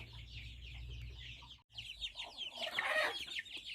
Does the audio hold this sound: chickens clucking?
yes